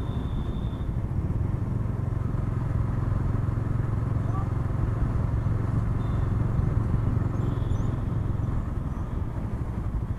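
A Bajaj Dominar 400 BS6 motorcycle on the move sends a steady, low engine drone with road and wind rumble for the whole ride, close and constant in level.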